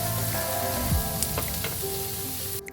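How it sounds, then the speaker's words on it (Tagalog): Carrot pieces stir-fry in hot oil in a single pan for pancit canton, giving a steady close sizzle with scraping stirs and brief clinks, alone without talk. "Ayan, lagay natin ang carrot. Haluin lang natin."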